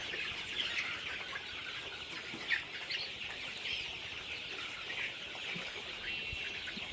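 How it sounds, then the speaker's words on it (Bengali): A flock of 33-day-old Color Bird broiler chickens with trimmed beaks clucking continuously in the afternoon, a busy, even chatter of many birds over a constant background hiss. "এই হলো 33 দিন বয়সের কালার বার্ড মুরগি।"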